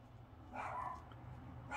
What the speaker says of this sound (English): We're babysitting a dog that just loves to bark, so I apologize in advance for the noisiness.